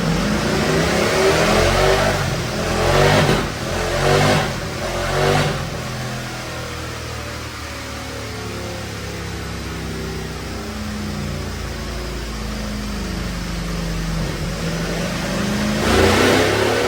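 Stock 2025 Ducati Panigale V4 with a Sprint air filter revving hard on a dyno, a few loud throttle blips followed by a long sustained high-rpm pull, loud and close, rising again at the end.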